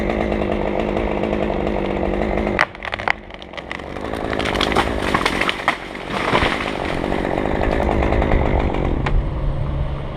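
A chainsaw bores into a tree's hinge with the tip of its bar, cutting near the middle of the hinge on a tight-topped tree; the saw runs loud and steady, dipping briefly as the bar sinks in, then howling again.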